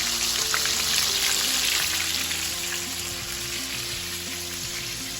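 Breaded chicken pieces fry in hot oil, giving a loud, continuous bubbling sizzle that holds steady throughout without any voices.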